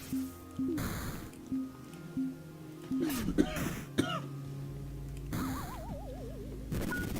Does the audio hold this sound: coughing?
yes